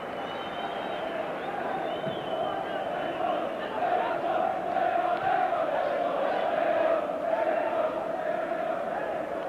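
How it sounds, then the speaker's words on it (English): Football crowd at a 1980s Burnley FC match roaring steadily in a stadium, a sustained wash of voices swelling slightly in the middle, heard beneath a commentator's talk. "And calls now for support from the crowd."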